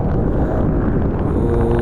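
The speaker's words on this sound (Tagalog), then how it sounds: "ang lakas ng hangin" Strong wind buffets the microphone in a continuous, loud low roar during heavy rain, with no talk over it.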